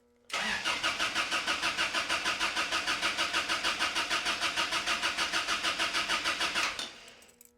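A Toyota-swapped Ram 50 engine cranks on the starter for about six seconds, giving a fast, even, rhythmic churning that never catches, loud and close.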